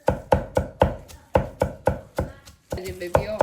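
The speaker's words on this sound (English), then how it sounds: "We chop everything finely" A knife chops dumpling filling finely on a board, about a dozen sharp, evenly spaced thuds in a steady rhythm, close and clear with no talk.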